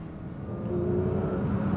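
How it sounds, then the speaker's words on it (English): A Porsche 911 GT3 of the 992 generation driving along a Welsh mountain road, a steady loud engine drone with a rising note, brief and continuous with no voices. "The new 911 GT3, 992 version GT3, on a beautiful Welsh mountain"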